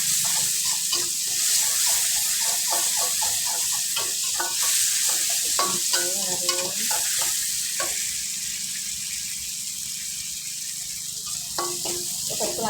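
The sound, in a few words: tempeh frying in hot oil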